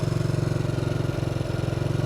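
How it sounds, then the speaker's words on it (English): A Bombardier Traxter 500 ATV engine idles on its own, a steady, close, low, rhythmic chugging with a fast even pulse and faint mechanical clatter, holding nearly constant throughout. "I've got it idling on its own, running on fuel, and I also have throttle response."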